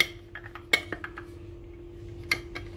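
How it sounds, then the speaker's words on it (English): Lid set onto a jar holding poha: a few light, close clinks and taps of glass and metal in an otherwise quiet room. "And put a lid on the jar"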